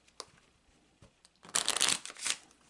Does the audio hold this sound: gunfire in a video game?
no